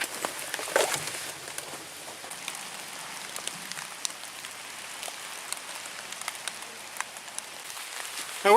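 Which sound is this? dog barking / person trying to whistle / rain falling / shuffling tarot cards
rain falling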